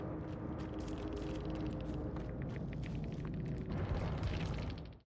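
A loud, sustained explosion from the video game Dead by Daylight, a dense rumbling blast with crackling debris that holds steady for about five seconds before cutting off sharply.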